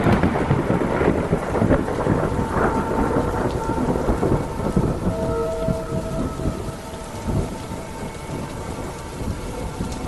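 Heavy rain pours steadily in a forest during a thunderstorm, with rumbling thunder rolling underneath. The whole scene is dense and close, with no voices.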